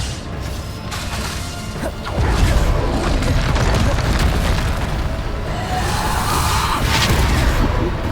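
A Bombarda spell explosion in the video game Hogwarts Legacy bursts with a loud, deep boom, then a sustained rumbling crash amid combat effects.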